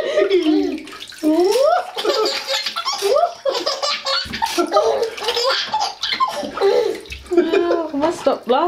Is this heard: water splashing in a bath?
yes